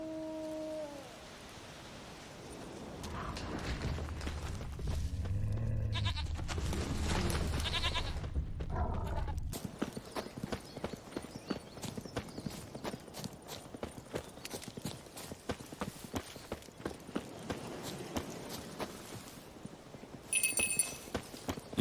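Horse hooves clip-clopping in The Witcher 3, a quick run of distinct, evenly spaced hoof knocks that takes over after a rumbling, noisy stretch with soft background music, with a brief bright sound near the end.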